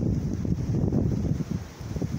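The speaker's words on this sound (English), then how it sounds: "It's getting increasingly windy" Gusty wind buffets the microphone beside a beck near Eakring, a steady low rumble with flutters and surges that runs the whole time and never drops out.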